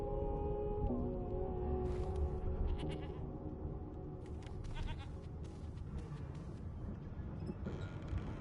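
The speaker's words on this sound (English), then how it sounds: "Off to the herd, little sheep." A sheep bleats repeatedly in short calls within the video game Divinity: Original Sin 2, layered over a quiet ambient game soundscape.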